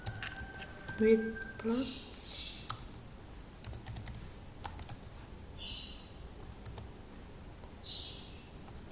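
Fingers tap out a Maple plot command on a computer keyboard in quick, scattered clicks, with short bursts and pauses. A speaking voice talks over the keystrokes at close range.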